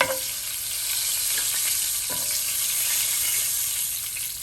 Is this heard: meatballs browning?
yes